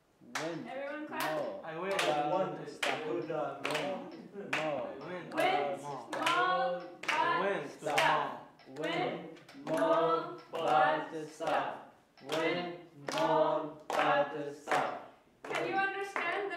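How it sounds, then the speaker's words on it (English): A class of students clapping in steady rhythmic bursts during a pronunciation lesson, with many voices chanting and speaking along over the claps. "Everyone clap."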